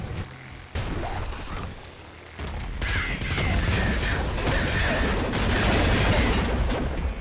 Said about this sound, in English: There's a super plasma cannon for you.